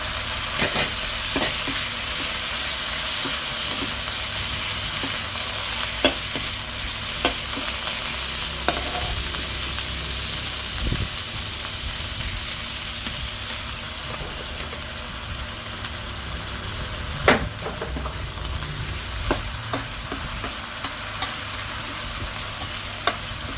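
Red curry paste with pork, water and leaves is stir-fried, giving a steady loud sizzle throughout with intermittent spatula scrapes and clacks against the pan.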